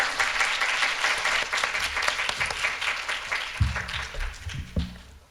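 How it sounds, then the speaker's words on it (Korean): An audience at an academic aesthetics conference applauds steadily for several seconds, a dense wash of clapping that fades near the end as a voice begins speaking. "큰 박수 부탁드리겠습니다"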